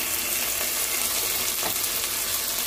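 Ginger paste and turmeric fry in a pan with a loud, dense, unbroken sizzle close up, and one brief stirring scrape in the middle.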